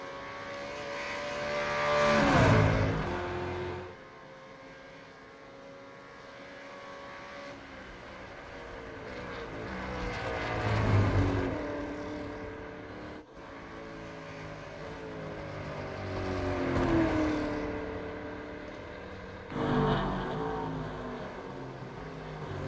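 Holden Commodore race cars scream past one after another at Mount Panorama in iRacing, engines swelling loudly as each approaches and fading as it goes by, with several distinct passes spread across the stretch.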